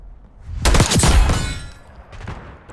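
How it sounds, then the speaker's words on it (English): Gunfire in Call of Duty Black Ops 6: a loud burst of rapid automatic shots, then a brief lull before a few softer follow-up shots, close and punchy. "Enemy sniper shooting."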